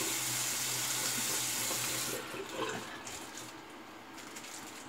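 Water runs steadily from a tap for wetting the face before a shave, a bright hiss that drops off partway through and gives way to softer splashing and dripping.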